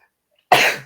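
A single sharp sneeze bursts out abruptly after a moment of silence, loud and close, with a short breathy tail fading away within half a second.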